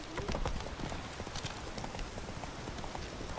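Horse hooves trot in a steady clip-clop rhythm in The Witcher 3: Wild Hunt, loud and continuous over game ambience and music, with a faint whinny-like touch and a little speech nearby.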